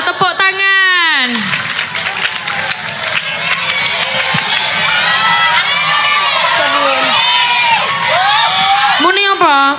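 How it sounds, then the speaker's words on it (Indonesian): A lively crowd, with many children among them, claps, cheers and whoops loudly after a prompt to applaud. Excited shouting voices ride over the clapping throughout. "Betul, tepuk tangan."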